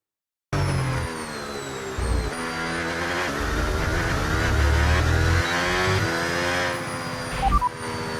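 Formula One cars lapping Circuit of the Americas during qualifying in the F1 26 video game, engines droning loud and steady with shifting pitch and occasional gear changes over continuous background engine noise.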